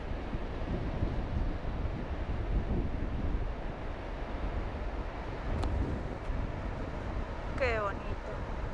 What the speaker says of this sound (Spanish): Las olas son impresionantes.